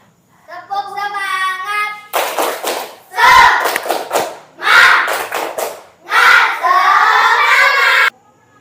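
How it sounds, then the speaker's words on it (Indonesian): A classroom of children does a rhythmic spirit clap, with loud, close bursts of clapping and chanting in a repeating pattern after a brief spoken call. "coba kita tepuk semangat dulu"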